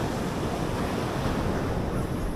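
Surf and wind roar steadily at Marina Beach in Chennai, a loud continuous wash of breaking waves with gusting wind buffeting the microphone, no voices.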